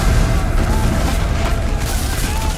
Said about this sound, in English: Cannons and small arms blast the attacking rebels